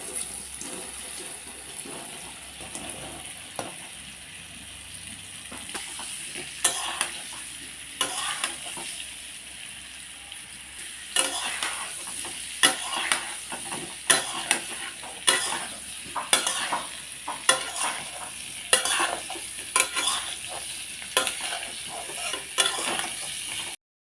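Potatoes frying in a pan with turmeric and five-spice, stirred with a utensil: a steady high sizzle runs throughout, broken by repeated sharp scraping strokes that grow more frequent and louder in the second half, with no talking.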